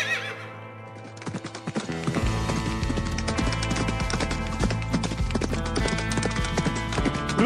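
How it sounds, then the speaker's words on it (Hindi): A Minecraft horse whinnies and then gallops with a rapid, steady clip-clop of hoofbeats that continues loud and close to the end. "घोड़े को तेज भगाना पड़ेगा, चल जल्दी।"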